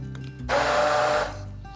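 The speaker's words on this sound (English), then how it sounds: "Now gently pulse with a hand blender" A hand blender gives a single short pulse through a lime granita mixture, a loud whirring buzz lasting under a second before cutting off, with quiet kitchen background around it.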